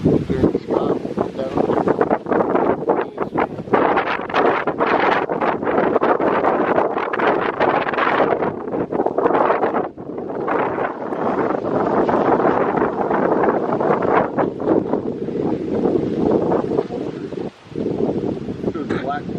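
Steady wind gusts buffet the microphone in an open park for the whole stretch, a loud broadband rush with brief dips, and a person's voice comes through faintly under it.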